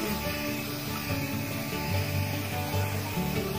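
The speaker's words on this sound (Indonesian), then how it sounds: "Ya, kita semprot dulu pakai desinfektan." Disinfectant spray hisses steadily through a bedroom being sterilized before a baby's arrival, a continuous mid-level wash of noise with no voices.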